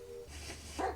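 A dog in the Blair Witch video game gives a single short bark or yip near the end of a quiet stretch with low background hum, no talking.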